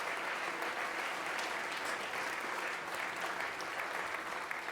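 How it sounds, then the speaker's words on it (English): Steady applause from a large school assembly audience, dense even clapping sustained throughout without pause. "Receive a round of applause for coming second."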